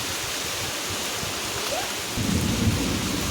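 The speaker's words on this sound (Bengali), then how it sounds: "মেঘ ডাকছে এরকম" Thunder rumbles during steady rain, with a continuous hiss of falling rain throughout and a deeper, louder roll of thunder swelling in the last second or so.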